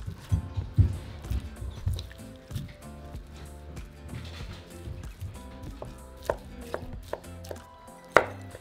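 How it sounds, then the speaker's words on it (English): A knife chops through cooked carnitas on a board for tortas ahogadas, a run of close, uneven thuds and soft squishy cuts with a few sharper knocks near the end. "I'm just going to grab the knife and start cutting them"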